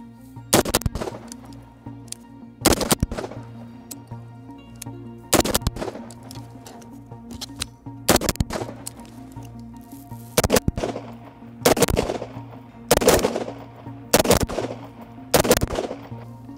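Rifle gunfire from a Sig MCX Spear LT and an LMT MRP with 11.5-inch piston uppers, fired as doubles at 10 yards: loud close pairs of sharp bangs repeating at regular intervals, each with a short ringing decay.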